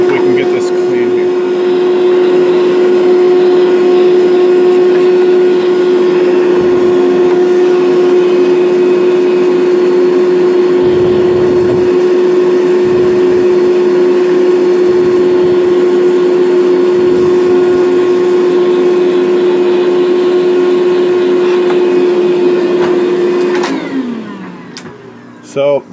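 A DeWalt DCV581H wet/dry vacuum roars loudly at a steady pitch while cleaning a grate, with small dips as the nozzle scrapes and gets blocked, then the motor winds down and stops.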